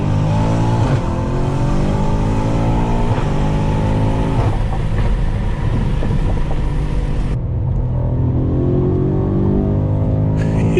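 A tuned 2018-2022 BMW M5 F90 with a JB4 tune accelerates hard through the gears. The engine roars loudly and continuously with rising, falling pitch sweeps at each gear change, heard from inside the car.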